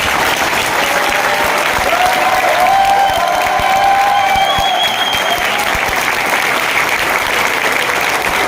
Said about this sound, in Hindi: जरा आप लोग ताली बजा के दिखाइए।